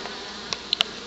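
Honey bees at a cabin trap-out in Gatlinburg buzz faintly in brief close passes, a few short zips over steady low hiss, with no talk.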